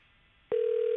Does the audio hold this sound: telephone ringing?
yes